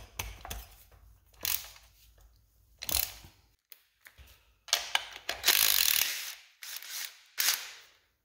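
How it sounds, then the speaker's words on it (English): Ratchet wrench with a 13 millimeter socket backing a nut off a stud on a 2006 GM NP263 XHD transfer case, irregular bursts of close clicking with short pauses between strokes. "Get this nut off."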